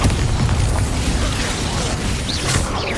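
Bombarda explosion spell blasting in the Hogwarts Legacy game during a boss fight, a dense, loud burst of crashing explosive noise with rumbling low end sustained throughout, with brief voice mixed in.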